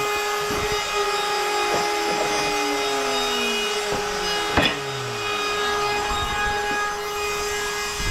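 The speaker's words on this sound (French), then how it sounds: "la CNC, ça doit vous défoncer les oreilles" Steady loud machine whine with a constant tonal hum, a CNC machine cutting continuously, with occasional sharper knocks and sweeping pitch changes.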